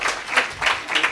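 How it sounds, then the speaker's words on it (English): A brief burst of audience applause at a public lecture, soft rolling clapping swelling in a few waves with no voice over it. "Let's give a round of applause to Koketso."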